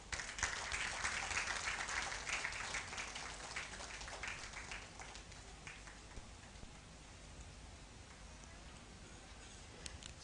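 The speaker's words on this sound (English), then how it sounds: "Please let's clap for him." Audience clapping at a teaching excellence award ceremony, a dense, rain-like patter of many hands, strongest at first and gradually thinning over ten seconds, heard from a distance.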